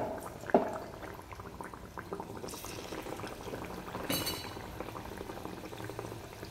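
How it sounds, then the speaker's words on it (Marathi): Anarsa, poppy-seed side up, frying in moderately hot oil in a blackened kadhai over a low gas flame: a steady bubbling sizzle with a couple of brief louder bursts, no voices. "आता मी अनारसा तळते"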